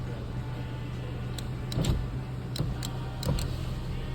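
Rear power windows of a Renault Megane 2 held in the up position, a low motor hum under a steady cabin drone with a few clicks and light knocks, close by and without talking.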